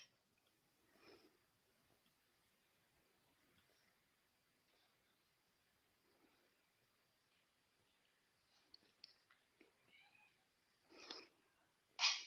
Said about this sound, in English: You hear one of my cats.